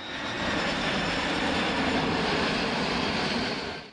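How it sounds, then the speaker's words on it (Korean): Loud, steady roar of military aircraft near a US military base, a continuous broadband engine noise filling the whole stretch with no pauses and no voices. "비행기 소리, 굉장히 커요, 소음 소리가."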